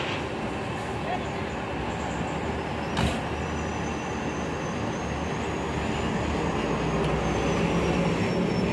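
A new PO Haryanto bus arrives at the Pamekasan bus terminal in Indonesia, with a steady, loud engine rumble and traffic drone filling the whole stretch and a brief thump near the middle.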